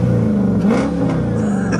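A Dodge Charger engine revs up close, a loud continuous rumbling growl with rising and falling pitch.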